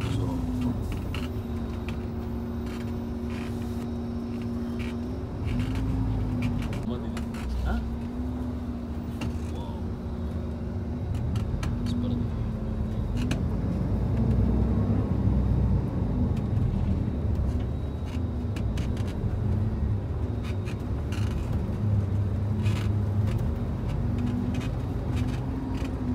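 Ambience at Kartosuro bus terminal: a steady idling engine hum runs under faint traffic and occasional vehicle movement, with muffled background activity throughout.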